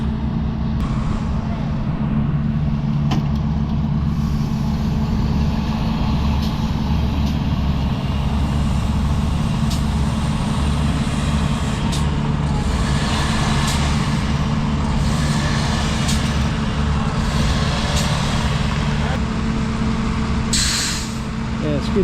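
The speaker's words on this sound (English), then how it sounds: "they swapped the forks to a bucket, giving the skid steer a little more weight with a scoop of gravel." A skid steer loader works a bucket of gravel on a home building site. Its engine gives a loud, close, steady low drone throughout with no break.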